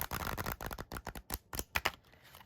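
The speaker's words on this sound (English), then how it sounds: "We'll give the cards a shuffle" A deck of oracle cards is shuffled by hand, giving quick bursts of close, crisp riffling and flicking that come in uneven clusters, then thin out into a few sharper snaps, with no talking.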